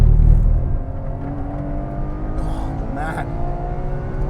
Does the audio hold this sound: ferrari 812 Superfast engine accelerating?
yes